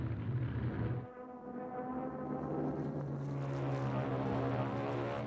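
Stuka dive bomber engines drone and throb steadily, a low rumbling roar that shifts in pitch as planes pass overhead, from Second World War footage.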